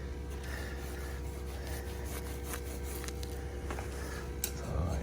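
A scraper blade drags across carpet, lifting slime with a soft, continuous rubbing and scratching texture at low volume, without speech.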